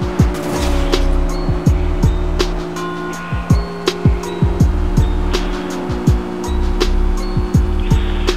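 A car on a fast test drive, its engine droning loud and steady in a high gear, with repeated tire squeals and skidding thumps breaking through at intervals.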